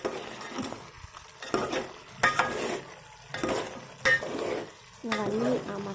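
A spoon stirs spicy mutton curry coated in garam masala in a pan, repeated bursts of scraping and thick sizzling strokes separated by brief pauses, close and fairly loud.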